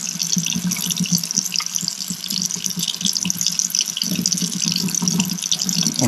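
Warm tap water runs steadily into a sink while a goggle mask is washed with soap, a close, continuous splashing hiss with small bursts as hands rub the mask.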